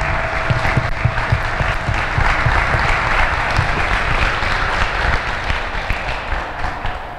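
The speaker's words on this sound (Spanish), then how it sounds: "Démosle un fuerte aplauso" Loud, dense applause rolls through a school talk, a sustained wash of many hands clapping close by, with almost no talking beneath it.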